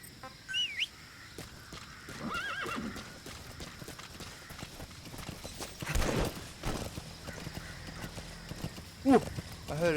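Horse hooves clip-clopping in the video game Metal Gear Solid V, with a horse whinnying, bird calls and game ambience around them, under occasional talk.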